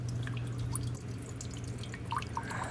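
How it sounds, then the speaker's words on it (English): Water of a creek or river, heard as soft, steady trickling and dripping at low volume with no voices. "Perhaps it is a creek or a river. You walk towards this water sound."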